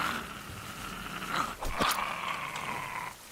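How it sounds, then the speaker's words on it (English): A short-eared dog in a video game growls and whimpers, a steady mid-level canine sound running the whole few seconds with a brief louder burst near the middle. "Alright, short-eared dog."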